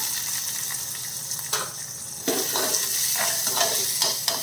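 Shallots sautéing in oil with ginger and garlic for an anchovy fish curry: a steady close sizzle broken by scraping stirs of a spoon in the pan, with no talking.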